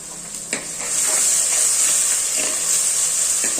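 Ground tomato puree poured into a hot pan bursts into a loud, steady sizzle and hiss close by, opening with a brief clink and continuing unbroken for a few seconds without speech.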